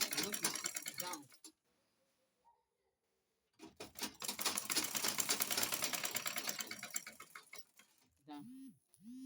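A sewing machine stitches abaya fabric in a long, rapid run of mechanical ticking. Short bursts come before it, a quiet pause sits in the middle, and a voice speaks briefly at the end.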